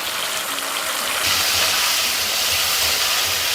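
Vegetables for brinjal (eggplant) kuzhambu sizzle in oil in a pan, a steady, loud hiss that swells slightly partway through, with no voices.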